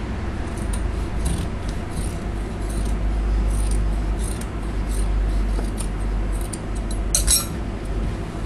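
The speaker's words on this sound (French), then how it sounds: "Puis, je vais couper." Scissors snip through trouser fabric during a hemming alteration, a run of light, crisp clicks and cuts repeating close by over a low steady background hum, with no talking.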